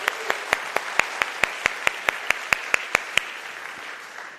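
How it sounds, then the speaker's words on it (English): A city hall audience at a State of the City address gives a round of applause, heard as a run of crisp, evenly spaced claps that fade out toward the end. "Let's give our chief a round of applause for all the hard work that he does."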